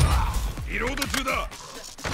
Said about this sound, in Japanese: リロード中だ。